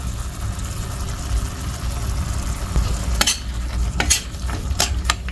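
Spices sautéed and stirred in a pan with sugar and salt, giving a steady sizzle under a low hum, with a few scraping stir strokes near the end.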